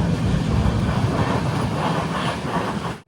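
The Sindhudurg Express on the Konkan Railway pulls into Sangameshwar Road station in monsoon weather, a close, steady broadband rumble of the moving train that runs without pause and cuts off sharply at the end.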